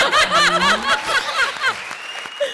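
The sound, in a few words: applause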